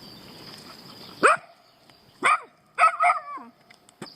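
A mother dog growls and gives several short, sharp barks and yips in separate bursts over a quiet, low background hum, in woodland.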